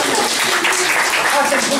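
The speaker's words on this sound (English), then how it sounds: "Give a big round of applause to Martin." Dense applause from a group at a summer English camp as a student receives a certificate, loud and continuous, a thick wash of clapping with voices faintly mixed in.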